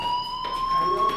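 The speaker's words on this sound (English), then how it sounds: "do you hear that fire alarm?" Fire alarm in the Life Is Strange video game rings as a steady, piercing electronic tone held throughout, loud and constant with faint background sound.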